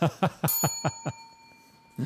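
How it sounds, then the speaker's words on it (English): A small bell rings in a quick series of bright dings that fade with a lingering shimmer, then one more ding after a short pause. "I'm going to have to ring the bell on this one"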